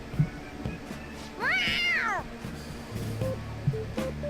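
A single cat meow in Persona 5 rises and falls in a clear arch, standing out over low, steady game background sound with soft thumps before and after.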